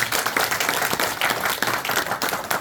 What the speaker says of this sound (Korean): 이것도 박수 한번 치셔야 돼요